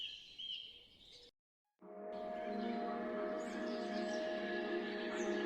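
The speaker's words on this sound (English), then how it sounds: "The sound of birdsong echoes in the air, awakening the northeastern forest after a long winter's sleep." Birdsong in a northeastern forest in spring, with faint chirps, then a short silent gap, then a fuller, steady chorus of whistling calls heard at a distance with no voices.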